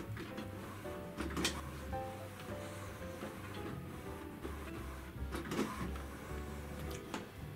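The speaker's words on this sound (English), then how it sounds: "only now it starts to initialize the printer, and it's gonna take the process up to 7 minutes" An HP OfficeJet Pro 8720 all-in-one printer whirs and clunks as it initializes, with close mechanical hums and rhythmic motor passes, plus a few sharper clicks and thumps.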